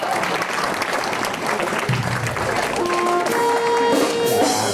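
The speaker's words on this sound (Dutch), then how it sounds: "applaus voor de mens" An audience at a Bonte Avond variety show in Grathem claps steadily in a loud, continuous round, with brief tonal sounds entering near the end.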